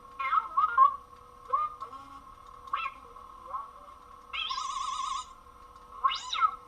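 BB-8 droid sound effects from a Kylo Ren crossguard lightsaber: chirpy electronic beeps and warbling robotic trills in short bursts with gaps between, set against a steady background hum.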